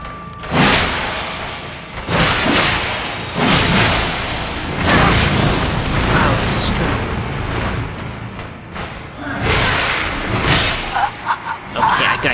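Enemy fire attack in the Elden Ring video game, a dense string of booming thuds and explosive bursts that keep rolling across the scene, loud and close, with voices talking over parts of it.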